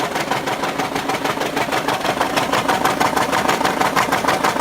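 A Subaru BRZ boxer engine with a custom exhaust drones steadily at idle with a rapid, even pulsing rhythm and a raspy exhaust tone, continuous and close throughout.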